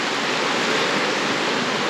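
A steady, dense roar of rushing water fills the space evenly, loud and unbroken, like a waterfall close by, rain-swollen on Vancouver Island.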